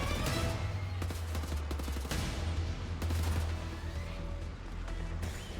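Bursts of rapid gunfire in Wolfenstein: The New Order crackle over a steady low rumble, with a few heavier blasts and crashes mixed in, while cables are shot.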